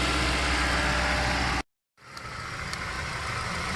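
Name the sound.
engine running at just below 2,000 RPM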